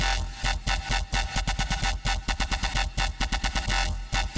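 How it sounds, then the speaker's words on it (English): A rapid, pulsing Serum synth pattern of short percussive stabs plays in a steady rhythm, its tail washing wider and more reverberant as reverb increases every two bars. "we can use another low frequency oscillator and make every 2 bars the amount of reverb increase"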